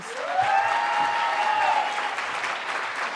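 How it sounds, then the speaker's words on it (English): Sustained audience applause at an awards ceremony, steady broadband clapping lasting about three seconds with a rising whistle-like tone threading through the first half. "massive round of applause, please"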